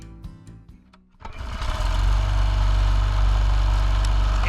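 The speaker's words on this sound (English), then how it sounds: "It's a sound of summer for many places in the U.S., the lawnmower." A lawn mower engine catches after a quieter rattling start, then settles into a loud, steady, droning run that fills the rest of the moment up close.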